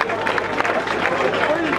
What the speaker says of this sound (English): Let's clap for all the candidates for Kawempe North.